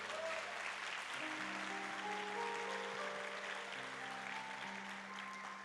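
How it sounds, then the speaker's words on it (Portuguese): Applause from a church congregation during an evangelical sermon, a steady, dense wash of clapping that lasts throughout, with sustained musical tones running beneath it. "No primeiro, pode aplaudir"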